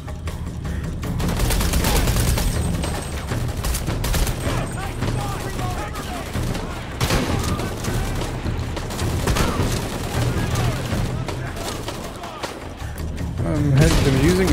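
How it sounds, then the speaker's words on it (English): Shotgun blasts in Shadow of the Tomb Raider, heavy booming shots and thuds layered in a loud, continuous firefight with voices talking over the action. "I'm using a different shotgun"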